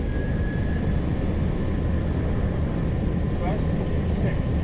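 Air Europa Boeing 737-800 engines spooling to takeoff thrust, heard from the cockpit on departure from Palma, a steady loud broadband roar that fills the cabin throughout.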